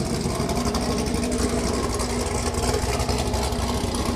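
Chevrolet SS 1LE with an upgraded BTR Trinity cam intake and Katech 103mm throttle body, idling with a steady, dense, rumbling drone that holds constant throughout.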